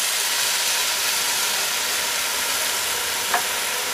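Canned tomatoes hitting sizzling onion in a hot pan for a prawn, tomato and feta dish give a steady, loud frying hiss throughout, with a brief clink near the end.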